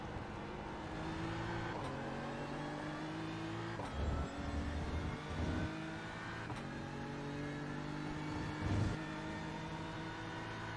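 A BMW M4 GT3 race car lapping Silverstone in a racing game drones loudly and steadily, its engine pitch climbing and then dropping sharply at several gear changes over roughly ten seconds.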